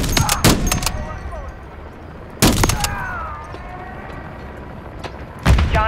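Bursts of gunfire in the Modern Warfare III campaign, including a mounted machine gun on an armored vehicle, come in sharp loud clusters separated by quieter stretches of ambient game noise.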